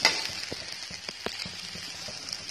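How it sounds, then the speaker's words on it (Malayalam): Raw jackfruit pieces frying in ghee in a pan, a light close sizzle with scattered soft pops and crackles, no voices. "നമ്മളിത് നെയ്യിലിട്ടിട്ട് നന്നായിട്ട് ഇതുപോലെ വറുത്തെടുക്കുകയാണ് ചെയ്യുന്നത്."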